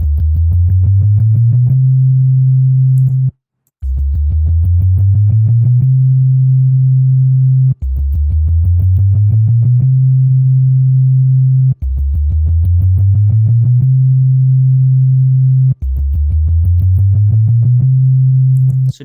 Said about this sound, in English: So this is the glissando play, okay.